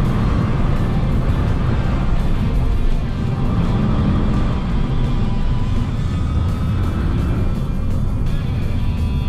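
A Toyota Yaris 4 with a 120 hp petrol engine on the move, giving a steady, loud low engine and road rumble throughout with no voices.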